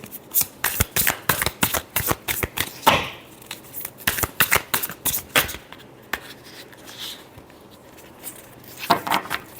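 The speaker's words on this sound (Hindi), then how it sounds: "last shuffle" A deck of love reading tarot cards is shuffled by hand, a rapid run of crisp riffling flicks and slaps in bursts, close and clear with short breaks between passes.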